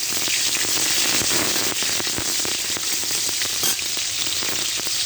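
Sliced bitter gourd frying in hot oil with nigella seeds, mustard seeds and a dried chilli, a dense steady sizzle with scattered crackling pops throughout.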